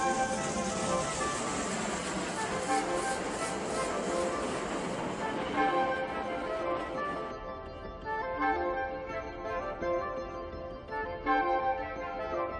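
A train rolls along the Eritrean railway, its steady clatter and rumble loud at first, then easing into rhythmic wheel and car sounds with faint metallic squeals as it passes.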